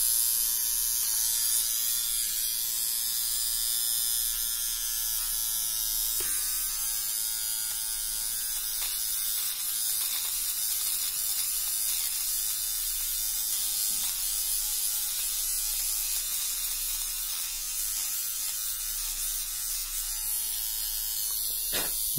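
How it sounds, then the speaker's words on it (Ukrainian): An electric shaver bought from AliExpress runs steadily while shaving hair, giving a continuous close buzzing whir with a faint ratcheting texture, loud and unbroken for the whole stretch with no talking. "Ось так от бриє."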